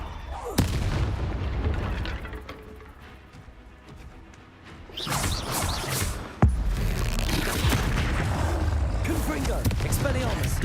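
Hogwarts Legacy spell combat in the Forbidden Forest with Confringo explosions, heavy booms and blasts, including one sharp loud hit, amid continuous battle noise and game sounds.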